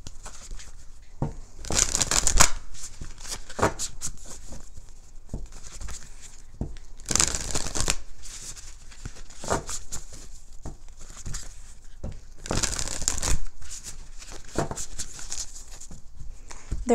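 A deck of tarot cards being shuffled, giving a soft papery patter with three louder riffle bursts spaced several seconds apart and quieter handling between them, close and alone.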